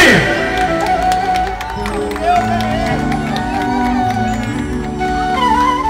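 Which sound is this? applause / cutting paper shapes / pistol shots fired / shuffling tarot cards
applause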